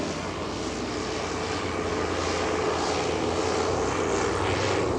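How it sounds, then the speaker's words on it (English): Goodyear Blimp engines and propellers drone at an air show, a loud, steady, broadband roar that holds even throughout with no pauses. "With the aft engine on that, we're able to reverse the thrust of those aft props"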